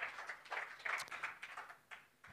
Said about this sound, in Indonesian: kasih tepuk tangan yang meriah buat Tuhan kita.